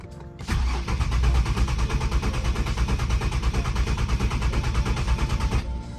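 An Infiniti G37 engine cranks over on the starter with the fuel pump shut off, a loud rapid rhythmic churning that starts abruptly and runs steadily for several seconds before cutting off.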